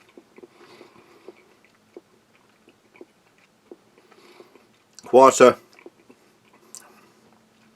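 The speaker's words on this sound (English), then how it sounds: "You need to chew it." Firm dark chocolate from a Latvian army combat ration being chewed close up, with soft quiet mouth clicks and one brief louder crunching burst, while someone talks.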